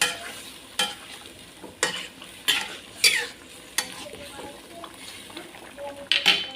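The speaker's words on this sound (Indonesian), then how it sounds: "kita taruhin penyedap rasa, aduk." Spoon stirring pindang bandeng, a Betawi milkfish dish, with seasoning in a pan: a sizzling simmer under a series of sharp metallic scrapes and clinks against the pan, recurring about once a second, close and distinct.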